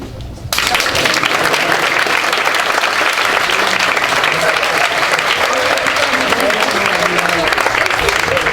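Loud, dense applause from an audience bursts out in a hall at a French debate championship final honoring the jury and debate teams, sustained and even throughout after a brief quiet start.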